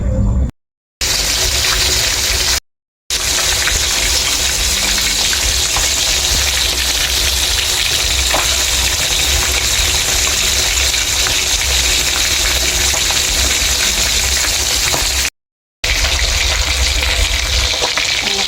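Two fish fry in hot oil, a loud, steady sizzle and crackle close by with no pauses apart from a few brief cuts.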